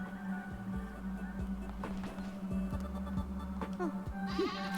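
Bleating from a friendly dragon sheep in a cozy cult-building video game, several short wavering calls repeating over a steady background hum and game music.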